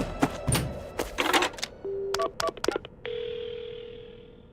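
In the horror game PARANORMASIGHT, handset clatter and a few short dial beeps lead into a steady telephone dial tone that holds clearly to the end.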